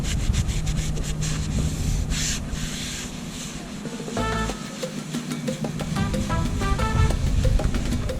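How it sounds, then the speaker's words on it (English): Someone scrubs polish into a boat's hull paint by hand at close range, with a steady rough rubbing that comes in repeated strokes and has a few small clicks mixed in. "Give it one more really good scrub."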